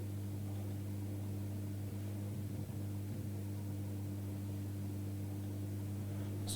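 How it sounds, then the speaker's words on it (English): A solar panel converting light into audio gives off a slight, steady electrical hum with layered tonal drones, continuous and unchanging throughout with no voices. "You might hear a slight hum."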